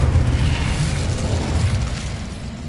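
The Incendio fire spell is cast in the video game Hogwarts Legacy, giving a steady, dense rumbling whoosh of flame that holds for under three seconds without a clear attack or fade.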